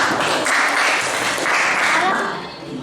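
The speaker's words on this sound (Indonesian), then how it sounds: "tepuk tangan buat kita semuanya hari ini sudah dengan baik" A seventh-grade classroom breaks into applause, with a dense, steady wash of many hands clapping for about two and a half seconds before it tapers off.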